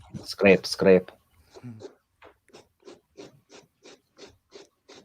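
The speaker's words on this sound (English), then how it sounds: "I hear some serious scratching" Scraping on a pumpkin being carved for Halloween, a regular series of about ten short rasping strokes, close and moderately loud, after a person talks briefly.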